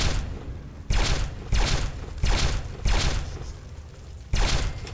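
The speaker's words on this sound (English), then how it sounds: "Does a laser rifle work on these things?" A laser rifle in Fallout 3 fires five separate loud shots at uneven intervals, each a crackling burst with a short decay, no talk.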